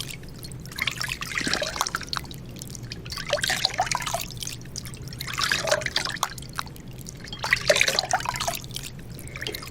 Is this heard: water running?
yes